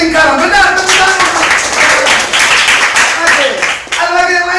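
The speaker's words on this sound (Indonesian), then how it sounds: "Benar, tepuk tangan" Classroom clapping for a student who answered correctly, a loud burst of hands from the class that mixes with children's voices and swells and fades over several seconds.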